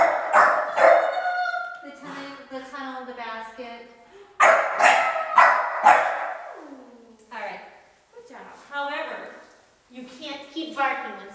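An adult dog plays with puppies, giving repeated barks, yips and whimpers in bursts with short pauses, close and moderately loud.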